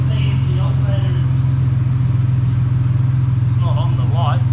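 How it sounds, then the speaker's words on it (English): A party bus engine idles with a steady low hum, continuous and close by, with faint voices talking in the background. "Sounds like an engine, normal one."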